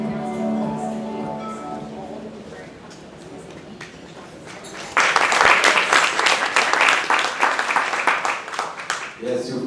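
Audience applause breaks out at an event on investment stories, building from a quieter stretch with some voice into a loud, dense burst of clapping that runs for several seconds before easing off.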